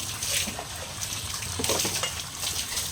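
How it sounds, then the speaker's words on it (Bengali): Water runs steadily from a tap while household items are washed on the morning of Vishwakarma puja, a continuous gushing splash with faint clatter near the middle. "এ কিসের ধোয়া ফেলা হচ্ছে"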